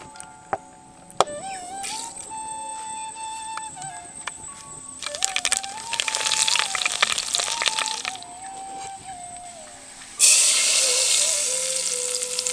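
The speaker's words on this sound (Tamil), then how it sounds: "இப்ப சட்டியில கொஞ்சம் எண்ணெயை ஊத்தி கடுகு சேர்த்து கறிவேப்பிலையை சேர்த்து தாளிச்சு சட்னியோட சேர்த்துக்கலாம்" Mustard seeds and curry leaves hit hot oil in a pan as a tempering for coconut tamarind chutney, giving short crackling sizzle bursts and then a loud, sustained hiss near the end over a soft melodic background.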